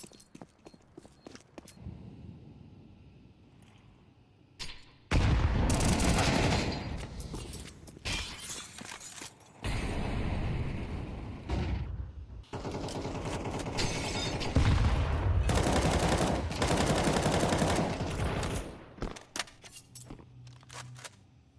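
Gunfire in a Counter-Strike 2 grand final match: loud bursts of rapid automatic shots that come in several long stretches separated by brief quieter gaps, with sharp cracks close up.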